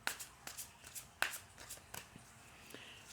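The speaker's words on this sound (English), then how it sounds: "I will shuffle them again for you" Tarot cards are shuffled by hand in a quiet room, giving soft papery riffles and taps at an uneven rhythm, with a few sharper card slaps among them.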